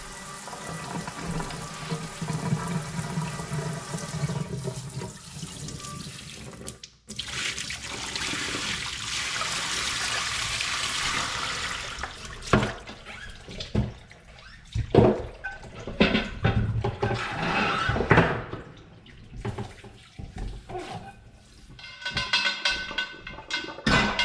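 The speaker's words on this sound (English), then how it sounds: "I am gonna fill this up and soak the bones for a few minutes" Tap water runs into a container to soak bones, a steady rushing pour that shifts in tone before breaking into choppier splashes and bumps.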